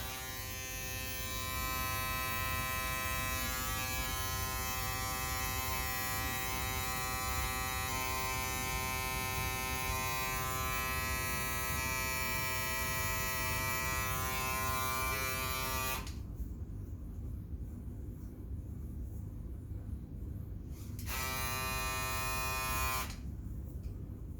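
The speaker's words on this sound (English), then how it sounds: "this one, I will remove with trimmer" An electric beard trimmer buzzes steadily as it trims beard hair, a close, continuous whine that briefly cuts out twice near the end before resuming.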